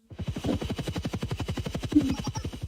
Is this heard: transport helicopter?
yes